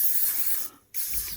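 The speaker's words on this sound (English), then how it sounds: "Dielectric spray." Short hissing bursts of dielectric (silicone) spray aimed into the wiring loom socket of a 1970s Honda CB750 K2 motorcycle, a close steady spray that stops briefly, then resumes.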